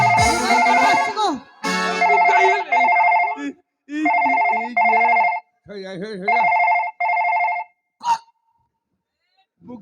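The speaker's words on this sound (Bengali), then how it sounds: "এই মোবাইল চালাচ্ছে, মোবাইল চালাচ্ছে গো" A mobile phone rings during a Bengali jatra stage comedy, its repeating electronic tune sounding in bursts while voices talk and shout over and between the rings.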